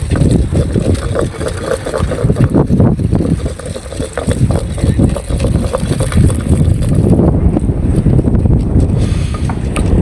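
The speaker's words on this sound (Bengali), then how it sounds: "চারিপাশে এভাবেই নৌকা ট্রলার আছে মাছ ধরার জন্য" Constant loud engine drone and wind rumble, as aboard a motorboat out at sea among fishing boats and trawlers, with no pauses throughout.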